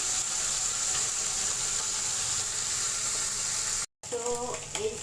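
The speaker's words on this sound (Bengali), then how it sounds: "চিংড়ি মাছটাকে একটু ভেজে নিচ্ছি" Shrimp, seasoned with salt and turmeric, frying in a pan: a loud, steady hiss and sizzle that breaks off for a moment, then returns with clinks and scraping.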